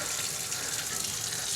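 Hot water runs from a tap into a sink while a cast iron pan is cleaned, a steady close hiss of flowing water with no pauses.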